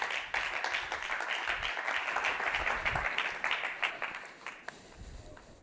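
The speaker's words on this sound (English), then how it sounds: "So a round of applause for Adrian as he comes to the stage" An audience at a product conference breaks into applause as a speaker walks on stage, a lively patter of clapping that holds steady and then tapers off.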